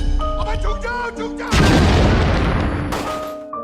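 Gunfire in a dramatized terrorist attack on a hotel in India, heard as a sudden heavy burst of booming shots after a stretch of music, loud and sustained for about a second and a half before fading.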